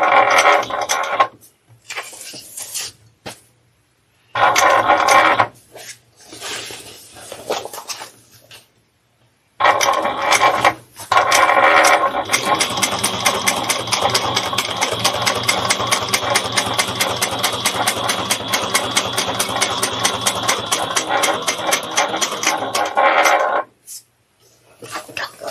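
A sewing machine stitching a fabric day-trip bag, loud and close, starting and stopping in short bursts before running in one long steady rapid whir for about twelve seconds, then halting.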